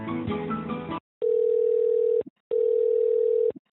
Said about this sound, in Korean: 용인대학교 측의 이야기를 듣고자 전화 연결을 시도했지만 끝내 답을 얻을 수 없었습니다.